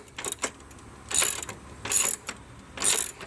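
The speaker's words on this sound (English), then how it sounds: "We're just going to go ahead and snug these down." A ratchet snugs down 15mm nuts on an engine mount of a Chevy Cruze 1.4L turbo, heard as four close bursts of rapid clicking, each under a second, with short pauses between.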